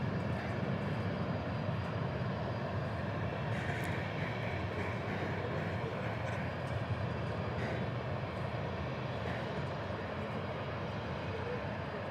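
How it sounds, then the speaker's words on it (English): A Boeing 747-8 taxiing out from an airport cargo area makes a continuous low roar with a high engine whine on top, steady and moderately close, while a voice talks faintly in the background. "We got another 747. As was mentioned earlier, taxiing out from the cargo area, headed to Seoul, a 747-8."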